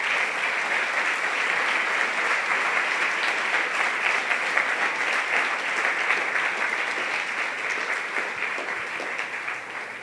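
Church congregation at a Sunday service applauding for their King, steady sustained clapping from a large crowd, loud and unbroken throughout.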